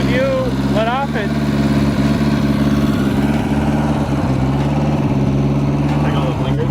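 An NSU motorcycle engine idles close by with a loud, steady low rumble that stays even throughout, while a voice is briefly heard over it.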